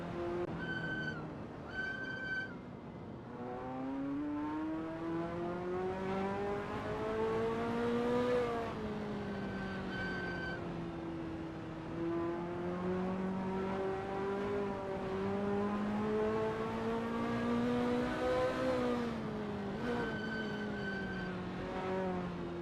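A Ferrari F40 at Kyalami's 1967 layout drones through its gears, engine pitch climbing and dropping repeatedly as it accelerates and brakes through corners, loud and continuous with no talk.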